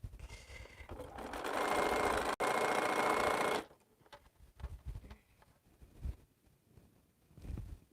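A sewing machine joins quilt pieces in a loud, steady run of rapid stitching for about three and a half seconds, then stops, leaving quiet handling bumps and rustles.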